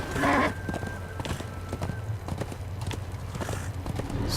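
Horse hooves pounding in a fast, rolling rhythm in Darksiders 2, close and fairly loud, with a brief whinny-like cry at the start.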